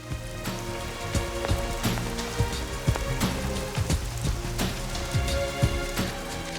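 Heavy rain pours steadily onto a surface, with dense splattering drops and occasional louder hits, no voices.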